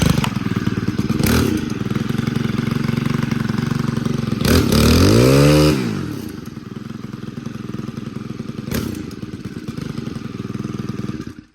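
A Stihl FS91R string trimmer's small two-stroke engine runs close and loud, revving in bursts and then settling to a slightly low idle with occasional clunks, no talk over it.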